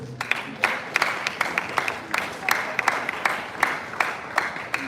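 Conference audience applauding a speaker at a lecture and fair on land, a steady wash of many hands clapping in a hall with sharp individual claps standing out throughout.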